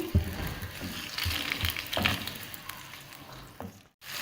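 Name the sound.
chicken frying in hot oil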